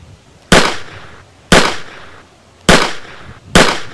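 Four loud, powerful gunshots ring out about a second apart, each a sharp blast with a short decaying tail, close to the listener.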